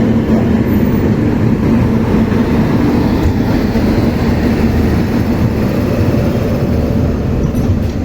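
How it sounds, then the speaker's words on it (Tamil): Steady loud rumble of the Dhanbad–Alappuzha train starting to roll along the tracks, a continuous low roar with faint rattling, no voices. "பத்தொம்பதுக்கு கரெக்டாக ட்ரெயின் ஸ்டார்ட் ஆகிடுச்சு"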